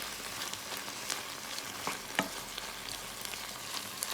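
Chicken pieces and freshly added peppers sizzle in a hot pan, a steady crackling hiss with faint stirring scrapes and a few sharper pops, close and uninterrupted.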